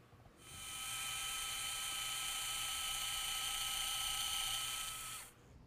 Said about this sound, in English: Here I'm using the VIP pilot reamer to create our pilot ream hole.